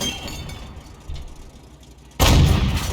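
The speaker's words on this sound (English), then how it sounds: "Well, it's a very fast firing gun." A single heavy cannon shot from the Excelsior tank in a tank battle game, a sudden loud boom near the end that follows a quieter stretch of engine and battlefield rumble.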